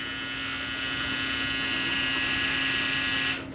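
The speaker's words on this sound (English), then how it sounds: "not with my dryer going in the background" A household clothes dryer runs indoors as a steady, droning electrical hum with a constant whirring tone, unbroken for a few seconds before it cuts down slightly at the end, with no speech.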